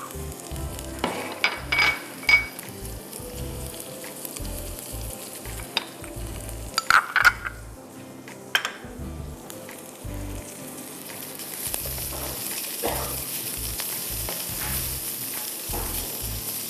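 Chicken cubes fry in a pan, sizzling steadily while a utensil stirs and scrapes them in scattered knocks, with the hiss swelling louder toward the end and no one speaking.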